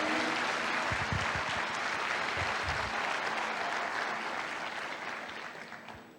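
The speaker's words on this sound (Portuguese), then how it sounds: "Você pode aplaudir a Jesus?" A church congregation claps together during a service, a full, dense round of applause with a few low voices mixed in, gradually fading out toward the end.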